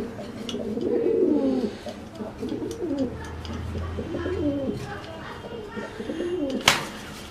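Fancy homer and giribaz pigeons for sale coo repeatedly in low, rolling phrases, close and clear, while someone talks over them.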